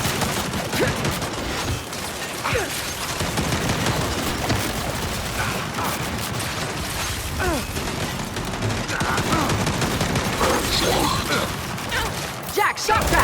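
Turret gunfire in the Gears 5 video game rattles in dense, continuous bursts with heavy thumps throughout, mixed under shouted voices from characters.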